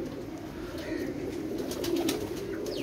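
A high-quality breed of pigeon cooing close by, with soft, low, rolling coos repeating over a faint background hiss.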